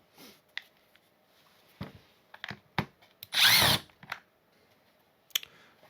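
A power drill whirs briefly while backing screws out of a Ridgid 18-gauge Hyperdrive brad nailer during a teardown. One close burst of about half a second is set among scattered clicks and handling knocks, with no talking.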